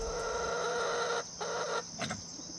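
Hens and turkeys cluck in a farmyard, a close, loud run of clucking calls broken by brief pauses, with no one talking.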